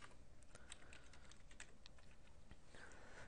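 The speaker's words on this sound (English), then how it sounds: "so let's just type in" Quick bursts of close keystrokes on a computer keyboard, typed while building a Pokemon Showdown team, tapping in a brisk irregular rhythm.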